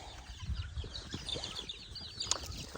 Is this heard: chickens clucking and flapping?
yes